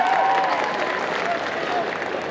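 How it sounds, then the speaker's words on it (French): A cosplay parade audience at a Japan manga convention applauds itself, loud dense clapping mixed with crowd noise and a few whoops, sustained throughout the short stretch. "applaudissez-vous, applaudissez-vous"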